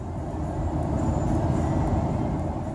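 Road noise inside the cabin of a Dacia Duster ECO-G SUV running on LPG, driving on an open road: a steady, loud low rumble of tyres and engine with no break and no talk.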